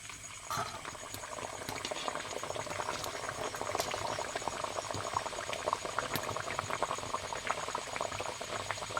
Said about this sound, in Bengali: এবার আমি এই যে পেটি ছেড়ে দিচ্ছি তেলের ভিতরে